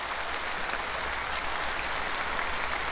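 A crowd applauds steadily at a Korean Liberation Day ceremony, a dense wash of clapping from many hands that holds at an even level throughout.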